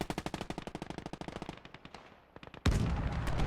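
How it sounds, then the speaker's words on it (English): Half-track machine gun in Gates of Hell: Ostfront rattles off a fast, steady burst of loud shots, thins to a few scattered rounds, then gives way to a sudden dense roar of battle noise. "Half track will gun down some of this infantry as it's coming in"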